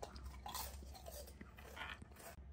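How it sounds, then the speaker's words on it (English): Close, loud crunching and munching of food being chewed, a steady dense texture of crisp bites running throughout with no talk. "Stop crunching."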